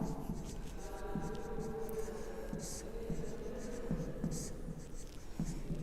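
Steady writing strokes from a teacher setting down a definition during a Hindi-language business management lecture, rhythmic and close, with a faint voice murmuring underneath.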